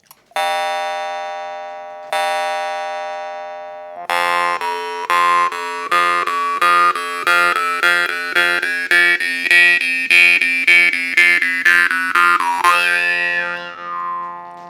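A Babayev jaw harp tuned to F2 twangs twice with long ringing sustain, then plays a rapid rhythmic run of twangs with shifting overtones before fading out.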